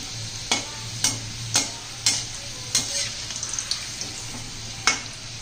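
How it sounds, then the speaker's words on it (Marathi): Modak frying in oil in a home kitchen, a soft low bubbling sizzle running underneath, punctuated by a regular series of sharp taps and clinks about every half second. "हे पहा मोदक आपण तेलात सोडून घेतलेला आहे"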